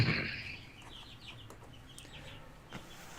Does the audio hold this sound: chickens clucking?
yes